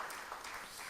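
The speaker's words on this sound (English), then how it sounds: "Give me a round of applause." A brief burst of audience applause during a church homily, a dense, fairly faint patter of clapping lasting about a second.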